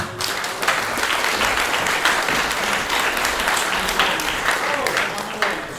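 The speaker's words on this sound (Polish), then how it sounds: "Proszę o wielkie brawa" Big round of applause from a conference audience at a medical software users' convention awards ceremony as a speaker is called to the stage, steady dense clapping filling the room, loud and sustained.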